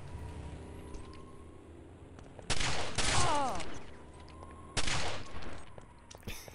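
Bursts of G36 assault rifle fire in a competitive first-person shooter match, two loud volleys with a quieter stretch between, over low background game ambience.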